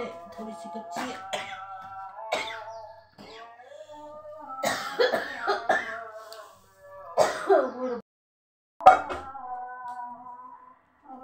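A person coughs and clears their throat repeatedly indoors, several harsh bursts separated by short pauses, close and fairly quiet.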